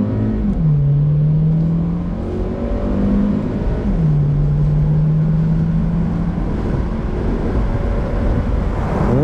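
A Volkswagen T-Roc Cabrio with a 7-speed DSG gearbox accelerates hard, its engine note climbing loudly and dropping at quick gear changes, with wind rushing around the open-top car.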